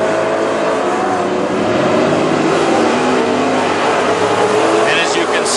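WISSOTA super stock race cars roar around Princeton Speedway, a dense continuous wash of engine noise and crowd din, steady and loud for several seconds with no clear single pass.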